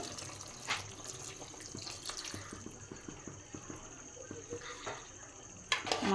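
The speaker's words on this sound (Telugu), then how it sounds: "ఇప్పుడు కూరకు సరిపడా వాటర్ వేసుకుందాము" Water pours into an okra and raw prawn curry in a pan, a soft close trickle and splash accompanied by light ticking clicks and a brief louder splash near the end.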